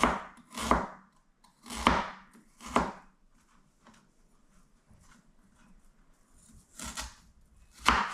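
A knife chopping ginger, onions and garlic on a board, a handful of sharp, separate chops spaced irregularly with quiet pauses between them, close and fairly loud.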